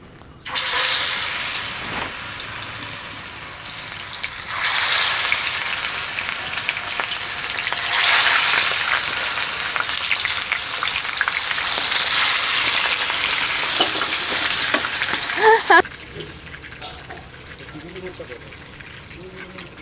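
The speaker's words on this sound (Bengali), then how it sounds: "গরম তেলে মাছ দিয়ে দিচ্ছি।" Magur fish pieces sizzle loudly in hot oil for a fish curry, a steady crackling hiss with bursts and spatters for most of the stretch, dropping quieter near the end while a voice talks over it.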